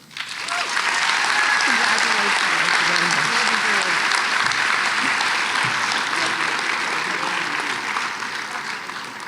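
Audience applause at a history day awards ceremony in Connecticut for teacher nominees, a sustained, even wash of many hands clapping in a large hall that rises quickly and holds steady with faint voices underneath.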